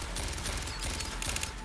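Rapid automatic gunfire in the sci-fi shooter Aliens: Fireteam Elite, a dense rattling burst of shots at moderate level, unbroken for the length of the clip, with no speech.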